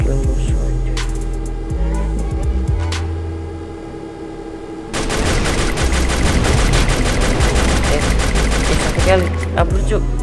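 Gunfire in the Free Fire video game during the cosmic racers vehicle mode. Sparse shots and engine hum come first, then a dense, loud burst of rapid automatic fire takes over the second half.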